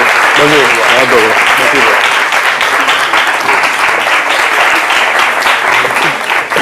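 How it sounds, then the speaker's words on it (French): Standing ovation from a crowd of young people welcoming a minister, loud sustained clapping throughout with voices speaking over it. "un standing ovation offert par tous ces jeunes, justement à vous."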